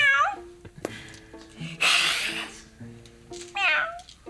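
Person imitating a wildcat's meow, two short vocal meows at the start and end, close and fairly quiet, with a brief burst of noise and background talk between them.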